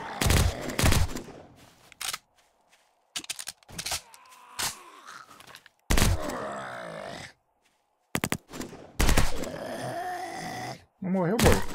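An MP5 fires in short bursts in the 7 Days to Die video game, the loud shots separated by gaps, with a person's grunting voice between them.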